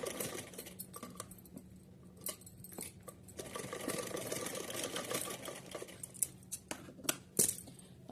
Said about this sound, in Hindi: तो चलिए सिलते हैं, बराबर करते हुए सिलेंगे इस तरीके से।